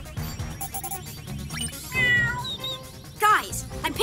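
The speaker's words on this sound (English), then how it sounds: "I'm picking up bird and cat sounds coming from the park." A cartoon cat meows a few times near a park, close and clear, amid other busy sounds and voices.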